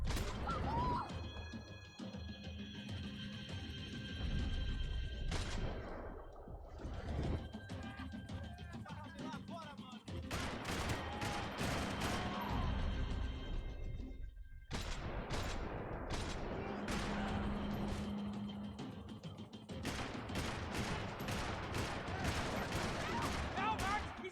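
Gunfire in the video game Max Payne 3 crackles in repeated sharp bursts and volleys across a dense, loud action scene, mixed with crashes and music while voices talk over it.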